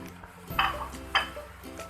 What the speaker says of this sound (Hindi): अब इसमें हम ये लौकी डालेंगे। जो हमने लौकी कद्दूकस की थी ना, ये वो डालेंगे।